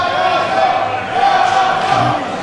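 A wrestling crowd roars in a steady wash of noise, cheering for Yamato during a match, while a commentator talks over it.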